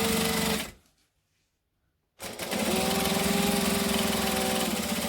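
Sewing machine running steadily while stitching a bag gusset with a back stitch, loud and close, stopping briefly for about a second and a half before resuming its continuous rapid hum.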